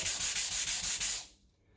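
A Suzuki Sirius bass harmonica comb rubbed on a flat sanding block, heard as close, loud, rhythmic strokes, about six even passes, before the sound stops and goes quiet.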